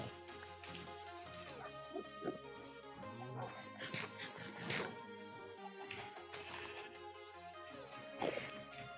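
Tamed wolf dogs in Minecraft whimper and give short yips, close and repeated, over a busy background of game sound and music.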